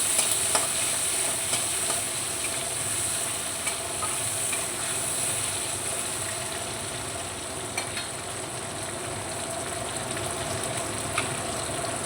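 Homemade fried spice paste being stirred into tomato frying in a pan, a continuous close sizzle with small scraping clicks from the stirring, even in level and without voices.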